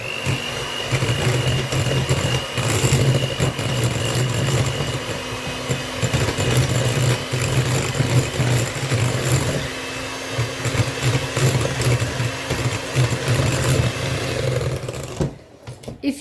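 Red velvet cream cheese brownie batter being mixed produces a loud, continuous mechanical whirring drone that runs almost without pause before cutting off abruptly near the end.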